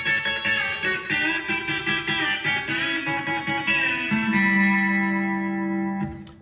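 A country lick played as double stops on a B-bender electric guitar: a fast run of bent two-note pairs that ends on a long sustained chord, clean and alone.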